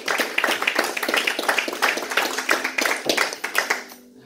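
A church congregation claps in a steady, fast rhythm for about four seconds, loud and close, with no speech, before the clapping stops abruptly.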